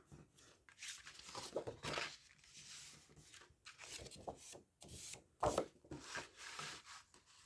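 Paper being folded and burnished along the crease for a vintage summer journal page, giving repeated dry rubbing and scraping strokes, close and moderately loud, with a sharper crisp rasp near the middle of the run.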